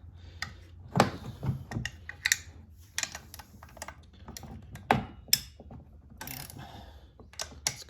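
A hand ratchet clicks in short bursts while tightening bolts on a PowerSmart 170cc lawnmower, close and crisp with pauses between runs of clicks.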